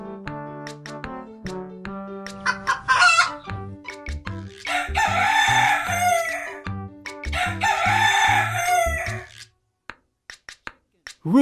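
A rooster crows twice in long, loud calls over an upbeat children's farm-animal song with a steady beat and plucked melody.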